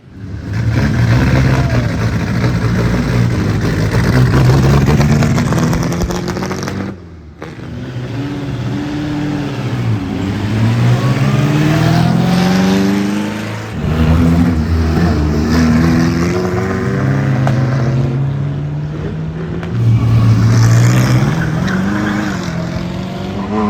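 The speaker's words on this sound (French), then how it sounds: "derrière les Type 35, toutes les autres Bugatti. Là, on va mettre du gaz." Bugatti cars, from the Type 35 onward, accelerating hard one after another, loud engine roars rising through the gears with brief gaps between passes, close and sustained.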